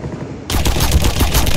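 Gunfire in Garry's Mod opens after a short quiet moment, a loud rapid automatic burst of close shots that runs to the end.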